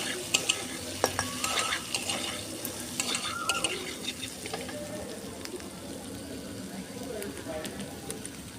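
Capsicum and spices frying in a pan while being stirred, a steady sizzle with scraping and light clinks of the spoon, under a person talking.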